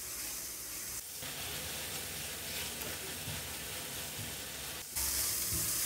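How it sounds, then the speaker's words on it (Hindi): Masala for an egg curry sizzles and hisses in oil in a pan, a dense continuous frying sound that briefly dips twice and then flares louder near the end, with no voices. "इसको हम तब तक भूनेंगे जब तक ये साइड से ऑयल निकलना शुरू ना हो जाए।"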